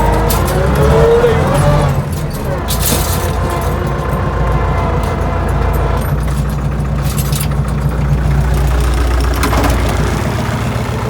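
A Lovol 354 tractor engine idles steadily on a three-bottom plough at a garden plot, a loud continuous low mechanical rumble with no clear changes in pitch.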